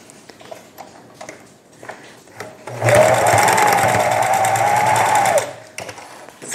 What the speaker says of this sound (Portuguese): agora eu vou passar uma costura prendendo o elástico